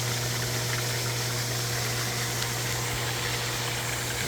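Swimming pool pump running on a pool being cleared of algae, a steady low motor hum with constant churning water noise, close and unbroken.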